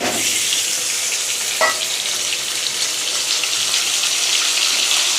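Panch phoron spices and cut potatoes frying in a hot kadai, a loud continuous sizzle and crackle close up, with a brief stirring scrape partway through.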